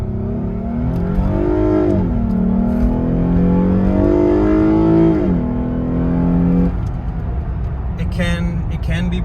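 Lexus GS350 fitted with a K&N cold air intake revs up and down in several swells, a loud, close engine note that rises and falls twice before settling, with a brief higher whine near the end.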